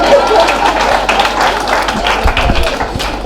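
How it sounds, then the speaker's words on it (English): An audience at a physical and mental health seminar claps in a burst of applause, loud and close, with voices and crowd noise mixed in under the clapping. "Hand of applause, please."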